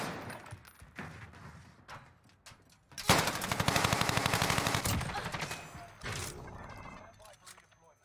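Rapid gunfire from a shooter video game, with scattered shots early, then a loud sustained burst of automatic fire lasting about two seconds, followed by quieter shots, with a player's voice talking over parts of it.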